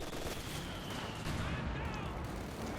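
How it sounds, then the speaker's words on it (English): Stuka dive bomber machine guns strafing in Company of Heroes 2, a dense continuous crackle of gunfire and battle noise filling the whole stretch at steady loudness, with a commentator's voice faintly underneath. "Stuke there opening up with its machine guns."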